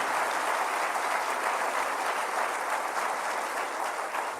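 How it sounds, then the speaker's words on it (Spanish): A church congregation applauds, a dense, steady wash of many hands clapping at even loudness throughout, with no voices standing out. "Dale un aplauso al Señor."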